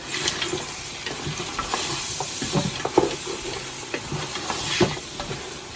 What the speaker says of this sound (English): we're gonna give it a quick saute